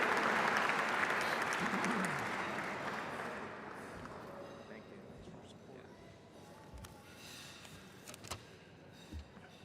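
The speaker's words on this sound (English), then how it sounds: "So a round of applause, please, for Jack Connolly as we have him come up to say a few words" Audience applause for Jack Connolly at a Tribute to Champions awards presentation, loud and dense at first, then thinning and fading into scattered claps and light room noise.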